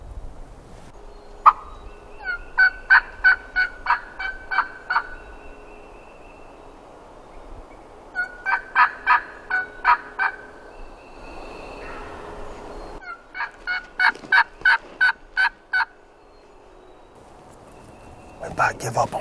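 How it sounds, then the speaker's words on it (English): A wild turkey gobbler in Georgia public woods gobbles repeatedly in three rattling bursts of rapid notes, fairly close and loud, with quiet pauses between and faint ambient noise. "There's turkeys in here."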